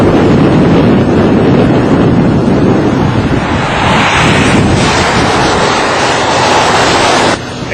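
Strong wind roars and buffets the microphone during an outdoor live news shot in Marion County, a loud, continuous rushing noise that cuts off abruptly near the end.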